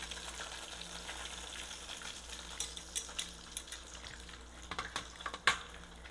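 Seafood cordon bleu frying in a pan while being flipped and rolled: a steady, moderate sizzle with a few sharp utensil clicks and scrapes near the end.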